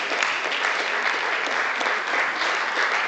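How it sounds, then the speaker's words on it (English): An audience at a university health lecture gives a steady, even round of applause, a thick continuous wash of many hands clapping at a constant level throughout, with no voices heard. "I think he deserves a round of applause."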